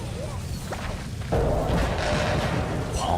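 Heavy booming impacts and thuds of taunt flare explosions in the video game Don't Starve Together, in a dense, noisy mix, with a louder sustained burst of crashing energy partway through.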